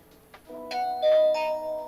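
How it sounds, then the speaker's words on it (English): A handheld walkie-talkie gadget plays a doorbell-like power-on chime when its button is held: a few clear electronic ding-dong tones stepping in sequence, moderately loud and close, with a faint click just before. "It's like a doorbell."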